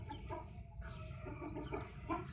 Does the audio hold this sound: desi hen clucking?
yes